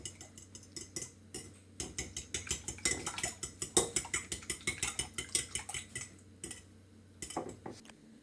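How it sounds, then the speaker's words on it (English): Rapid, steady clinking of a fork whipping eggs in a bowl for matzah brei, a quick rhythmic tapping that runs almost without pause, fairly quiet and close with no talk. "now we're going to beat the eggs"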